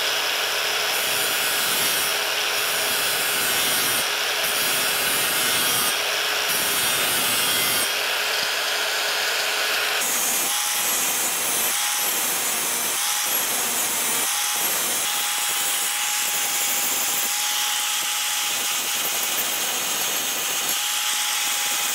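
Lawn mower blade sharpened while still on the mower deck, a loud continuous grinding rasp with rhythmic interruptions as the tool passes back and forth, close and alone without talk.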